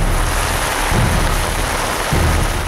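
Heavy torrential rain pours during a cloudburst in Uttarakhand, a loud, dense and unbroken roar with deep rumbling surges underneath.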